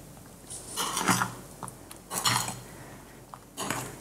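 A utensil stirs soaked bread and beaten eggs in a bowl for bread pudding, giving several short bursts of wet scraping and clinking against the bowl, close and fairly quiet, with brief pauses between strokes and no talking.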